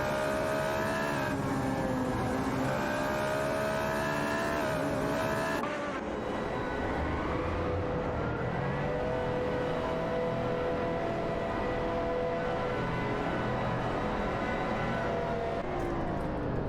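Race cars roar continuously at speed while jockeying and overtaking, engine notes shifting in pitch as they pass. Tires squeal under a dense, loud, unbroken wall of motor noise.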